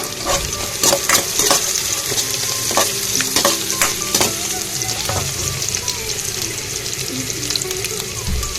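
Onion, curry leaves, dried red chillies and crushed garlic sizzle in hot oil for Karnataka-style tempered rice, a steady close frying hiss broken by scraping stirs, with a voice speaking over it.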